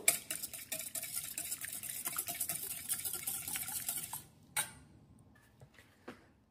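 Cake batter with a spoonful of oil beaten briskly in a bowl, a rapid, close clatter of utensil against the bowl for about four seconds, then a few scattered knocks after the beating stops, with no talking.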